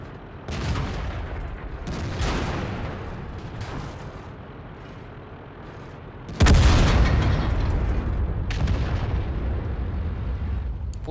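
Heavy cannon blasts from an ISU tank destroyer in a video game boom at intervals, the loudest landing midway, each followed by a lingering rumble over continuous low background noise.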